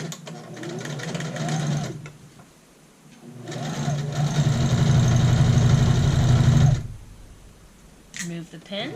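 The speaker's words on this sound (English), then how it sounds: "I'm sewing the darts on the wrong side of fabric." Sewing machine stitching darts on the wrong side of skirt fabric, running in two steady buzzing bursts, the second longer and louder, with quiet pauses between.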